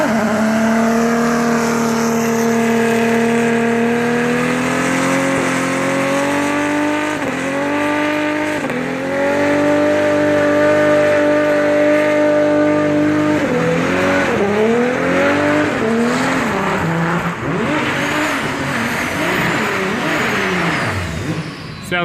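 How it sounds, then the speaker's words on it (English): A car engine with a turbo boost problem revs loudly and continuously for over twenty seconds, its pitch repeatedly climbing and dropping through uneven surges, close up and dominating, with faint voices underneath. "Sounds like there's a little bit of a boost issue there"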